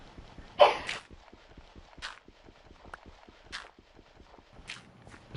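A single sharp sneeze bursts out near the start, followed by quieter brief clicks and muffled steps over a faint rhythmic background.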